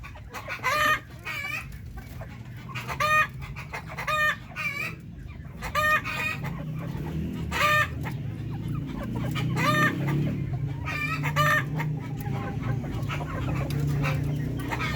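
Darag native chickens on a breeder's farm in Saragosa cluck in rapid, repeated bursts close by, with a rooster crowing amid a steady background of fowl.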